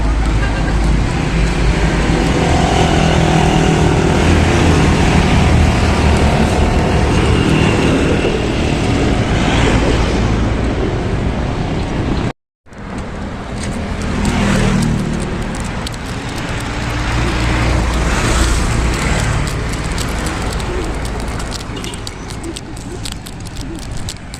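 Steady, loud roadway roar while riding along a highway, wind and passing vehicles blending into a continuous rumble, with a brief dropout midway before the drone resumes.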